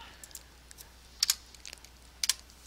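Computer keyboard typed on in sparse, quiet key clicks with a couple of sharper double taps, close by in a quiet room, no talking.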